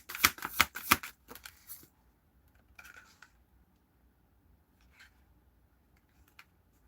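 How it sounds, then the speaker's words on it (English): A deck of cards is shuffled with a quick burst of crisp riffling and snapping during a card reading, followed by quiet handling and faint taps. "Shuffle."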